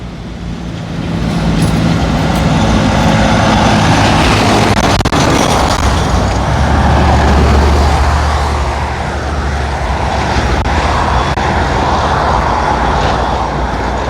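Road traffic rolls past at a roadside stop on a Kershaw County history tour near the Wateree River: a loud, broad rushing swell builds and holds, with a low rumble from a heavy vehicle in the middle.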